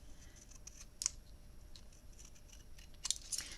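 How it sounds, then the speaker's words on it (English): Scissors snip off a small bit of paper while a memory book is being made, giving a few faint, brief cutting clicks at a quiet tabletop, one near the start and a couple more near the end. "need to snip that little bit off."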